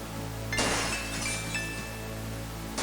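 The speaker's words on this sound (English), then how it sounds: "Gabriel hears the faint sound of breaking glass." Breaking glass from the Gabriel Knight adventure game: a sudden bright shatter with tinkling shards that rings on for about two seconds, followed by a second quick crash, set over a low steady game ambience.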